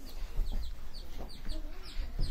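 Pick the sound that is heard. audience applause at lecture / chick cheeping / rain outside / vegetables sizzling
chick cheeping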